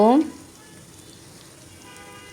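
Onions fry in a pan for a spicy potato and meat curry with chui jhal, a soft, even sizzle running quietly throughout after a short voice at the very start.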